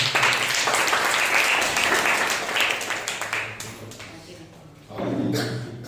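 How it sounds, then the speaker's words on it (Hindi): A congregation at a Sunday church service claps steadily, a dense wash of applause that fades somewhat before swelling again near the end. "आइए हम लोग उस सच्चे और जिंदा खुदा के लिए जोरदार तालियां बजाएं"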